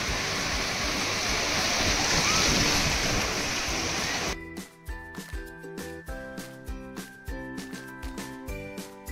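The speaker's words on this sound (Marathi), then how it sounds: "असा हा मस्त समुद्राचा व्ह्यू आणि आवाज." Sea waves roll onto Diveagar beach at sunset in a loud, steady surf roar for about four seconds before rhythmic music takes over.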